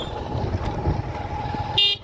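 A motorcycle ride on an Indian road, with a steady, close engine and road rumble throughout and a short horn toot near the end. No one speaks.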